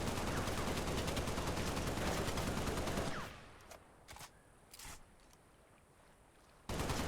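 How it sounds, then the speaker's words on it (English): A Halo Reach assault rifle in the Breachers VR game fires a loud, rapid automatic burst for about three seconds, then a few scattered shots follow before sustained fire resumes at the end. "The Halo Reach assault rifle."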